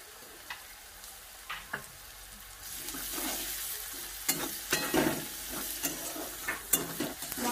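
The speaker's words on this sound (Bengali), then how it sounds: "মশলাটা আমার ভাজা হয়ে গেছে" Onion frying with salt and ginger-garlic paste, a quiet sizzle that swells louder partway through, with intermittent scraping stirs of a spoon against the pan and no speech.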